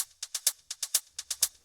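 Open hi-hat hits from a melodic house track, with an echo effect on the part, play in a quick, steady pattern of about a dozen bright, hissy strikes, faint and alone.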